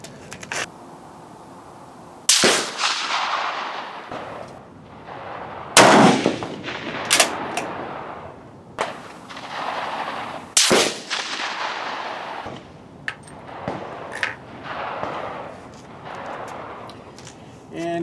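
Rifle gunshots fired at an outdoor range with GP11 brass loads, several sharp loud cracks spaced a few seconds apart, with someone talking quietly between shots.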